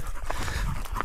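Heavy dog, about 40 kg, panting steadily on a mountain trail descent near a small wall, close and moderately loud with rhythmic breathy huffs and no talk.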